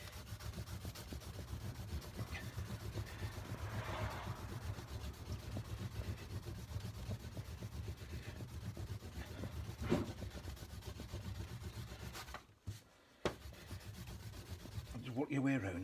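Abrasive rubbing strips lacquer off a Suzuki GS750 part, a quiet, continuous scratchy scrubbing with steady strokes and a brief pause near the end.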